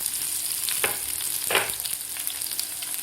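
Sliced onions, garlic and ginger fry in oil for a soybean curry, giving a constant bright sizzle broken by a couple of soft stirring strokes, close and with no voices.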